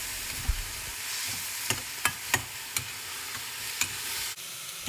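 A soy sauce and celery filling is stirred in a hot pan, a bed of gentle sizzling broken by several sharp scraping clicks of the utensil against the pan at irregular intervals, close and with no talking.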